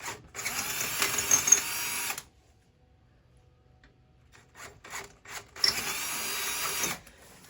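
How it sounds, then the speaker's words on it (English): A power drill boring out powder-coated bolt holes on the front undercarriage of a 1987 Buick Regal Turbo, two grinding bursts of a couple of seconds each separated by a quiet pause, close and clear. "these holes right here, they got to be drilled out"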